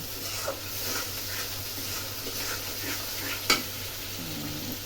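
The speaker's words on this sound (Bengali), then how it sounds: "মাছটা ভাজা দিতে হবে" Fish frying in a pan on a stove during home Bengali cooking, a steady soft sizzle with faint stirring clatter and one sharp spike, no talk.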